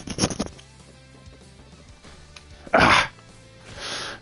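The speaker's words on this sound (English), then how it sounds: "Damn it, I keep sneezing." A man sneezes near the microphone, a faint build-up followed by one loud, explosive burst and a softer breathy exhale after it, with no talk.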